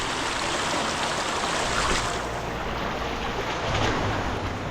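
Water rushes steadily down a small cascade along a canyon trail to Dau Falls in Cebu, Philippines, a dense, continuous close-up roar with no pauses and no voices.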